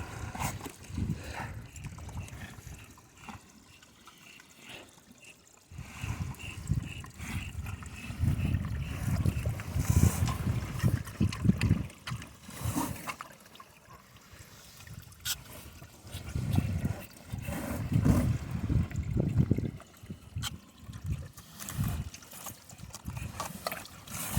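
Water splashes and trickles in uneven bursts close by as it is poured onto frozen ice, with gurgling pours and quiet gaps between them.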